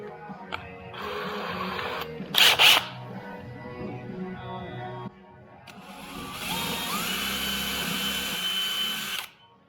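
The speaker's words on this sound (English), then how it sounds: "just drill nice and easy" A handheld power drill bores a hole slightly larger than a screw under very light pressure, its whirring motor running steadily up close in two long stretches with a brief louder burst between them.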